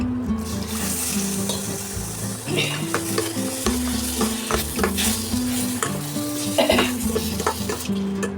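Tomato frying and being stirred in a spicy potato and parwal curry, a continuous close sizzle with repeated scraping spoon strokes against the pan, heard alone without talk.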